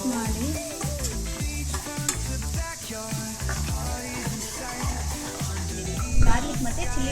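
Spices with turmeric and salt being stirred in a hot, sizzling pan, a steady frying hiss with scraping spoon strokes close by, while a voice talks over the cooking.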